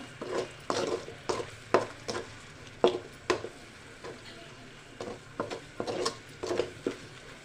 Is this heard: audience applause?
no